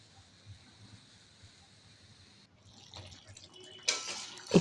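Water is poured into a pan of fried pabda fish for a mustard curry. A quiet, low hum gives way to a splashing pour that swells and grows loud near the end.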